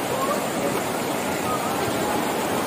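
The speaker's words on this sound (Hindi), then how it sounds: "आपको आवाज आ भी रही होगी वीडियो में, बहुत ज्यादा तेज बहाव है पानी का।" Fast-flowing river water near Dehradun, swollen in the rainy season, rushes in a continuous broadband roar with no breaks, steady and fairly loud throughout.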